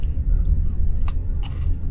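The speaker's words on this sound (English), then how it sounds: "That's nice and crunchy as well." Someone bites and chews a crunchy biscuit in first-class ferry seating, with a few close crisp crunches over a low rumbling background.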